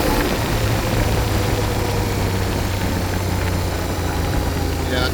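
A CFMOTO IBEX 450 motorcycle engine idles after an ECU tune, giving a steady, loud, close-up drone with a low throbbing hum that holds constant throughout, with no speech over it.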